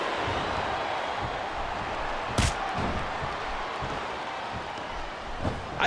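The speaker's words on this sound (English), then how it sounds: "Now the fans start to cheer for him." A virtual arena crowd in WWE SmackDown vs Raw 2008 during a John Cena vs Umaga match roars as a dense, steady wash of cheering, broken by a loud slam and a few thuds.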